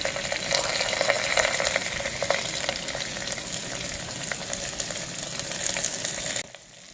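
Chopped onions with mustard seeds and curry leaves sizzle in hot oil in a pressure cooker, a steady close frying crackle with stirring scrapes that stops abruptly near the end.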